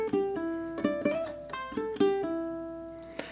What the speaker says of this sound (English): this time around we're doing a slide lick. So it sounds like this.